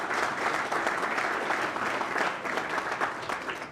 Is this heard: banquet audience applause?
yes